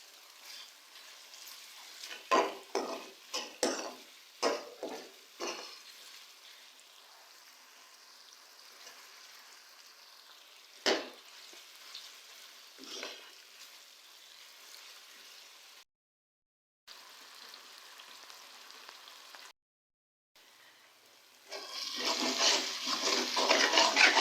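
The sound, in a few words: frying and stirring tomatoes into aloo gobi masala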